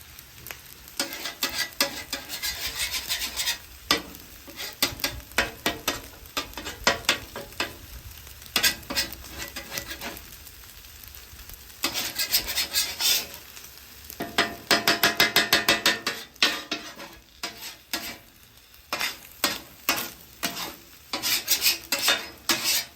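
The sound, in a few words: eggs scrambling and frying in fried rice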